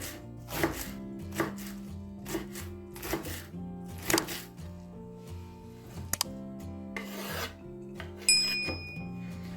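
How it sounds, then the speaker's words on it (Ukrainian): A knife thinly slices half a head of young cabbage on a board, a steady run of crisp chopping strokes, roughly one every second or so, close and clear over soft background music, with no talking. "Беремо півкачана молодої капусти і тоненько нарізаємо."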